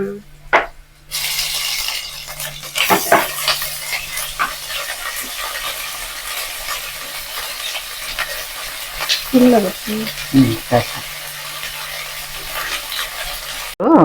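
Onion and ginger sizzle and crackle steadily in a hot pan, with occasional scraping clinks from stirring. A voice briefly speaks partway through.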